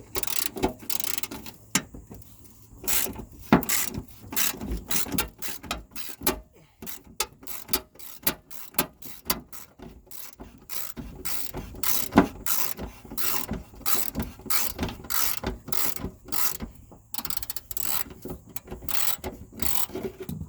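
Rusted battery tray bolts on a rusty Ram truck are worked loose with a ratcheting socket, making close, steady ratchet clicks and metallic clatter with short pauses over about twenty seconds.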